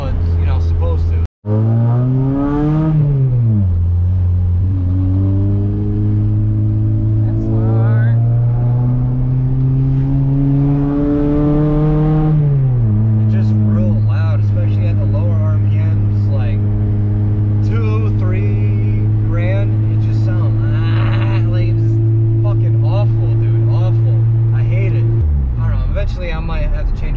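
Acura TSX engine with an exhaust leak while driving, a loud near drone rising and falling through several gear changes, revving up then settling into a steady cruise, with no talk.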